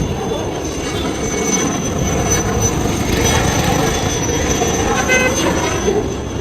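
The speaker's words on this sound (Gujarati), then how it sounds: "હેલિકોપ્ટર આવે, તમને હેલિકોપ્ટર બતાવું." A helicopter approaches near the Somnath temple, its loud, steady rotor and engine roar filling the whole stretch without any talk.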